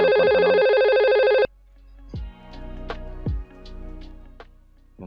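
A simulated IP phone in Cisco Packet Tracer rings with an incoming call from an analog telephone: a loud electronic ringtone for about a second and a half, then quieter scattered beeps and clicks.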